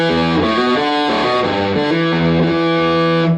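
Electric guitar on the neck pickup through a gain channel, played as a short distorted riff of sustained, thick notes that shift pitch every fraction of a second, loud and close with no talking.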